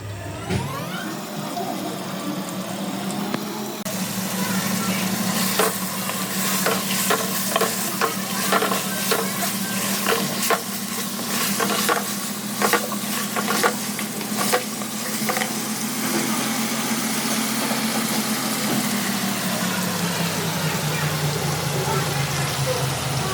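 Marinated beef fries in a pot on the stove, a steady loud sizzle with repeated clattering stir strokes, and a voice can be heard in the background.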